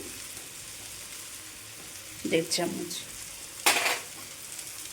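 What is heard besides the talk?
spices frying in a pan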